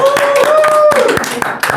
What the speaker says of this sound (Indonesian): Hey, bro, tepuk tangan dong.